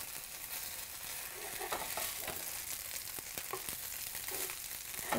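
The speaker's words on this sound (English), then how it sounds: "I'm going to use our brand new stainless steel turner and go ahead and flip these over to get a sear on the other side" Tofu slabs searing in a hot pan for an orange-ginger stir-fry after being flipped with a stainless steel turner, a dense, continuous close sizzle with a few soft scrapes and pops, no talking.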